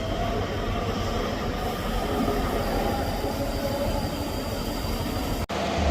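An empty coaching stock train rolls past at Edinburgh Haymarket station, a dense, close rumble of wheels and carriages with faint squealing, sustained throughout before cutting off abruptly.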